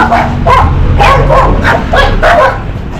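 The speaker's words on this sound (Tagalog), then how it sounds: "Yung aso dito, parang galit na galit." A dog barks repeatedly in sharp, agitated bursts, close and loud, with yelping notes and a steady low rumble of background noise.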